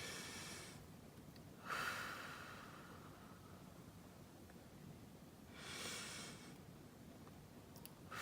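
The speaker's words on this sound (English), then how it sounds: "Take 3 deep breaths" Two slow, deep breaths taken one after another, each a soft breathy rush of air in a quiet room, separated by a few seconds of near silence.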